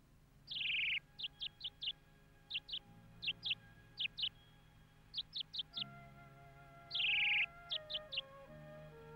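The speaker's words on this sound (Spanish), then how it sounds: "Ese maldito pájaro con su canto es capaz de salvarle." A single bird sings alone in short bursts: long bright whistled notes alternate with rapid clusters of three or four sharp chirps, set over soft background music in a film scene.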